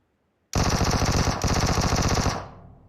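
Rapid automatic gunfire in the battle royale game PUBG rattles out in a long, loud burst of evenly spaced shots, a brief break midway, then continues before ringing off into a fading tail.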